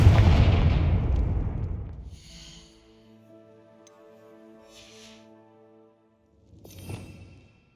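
A Confringo spell detonating in Hogwarts Legacy: a loud, booming blast that fades into a long, humming magical tail, followed by a softer second burst a few seconds later.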